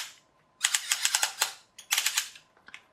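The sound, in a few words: toy figure's arms clicking as they move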